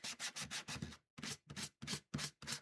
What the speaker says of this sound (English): I'm just going to quickly rough it up with my rough grip sandpaper